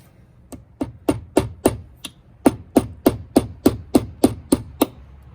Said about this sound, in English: And then I just tap those golf tees right into the holes.